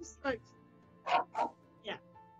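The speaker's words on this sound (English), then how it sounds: "now my dog's joining in as well" Pet dog barking indoors in several short yips and bow-wows, three or four separate barks spaced irregularly over a couple of seconds, fairly close.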